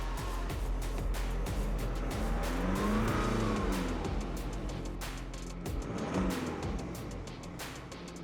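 A BMW 2 Series Active Tourer engine revs up steadily, its tone climbing and then falling back smoothly, loud and close with a continuous rumbling drone.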